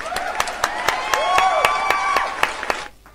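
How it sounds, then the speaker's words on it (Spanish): Rhythmic, evenly spaced hand claps from a rock and roll TV show audience, loud and steady for about three seconds over music, then stopping abruptly. "otro fuerte aplauso"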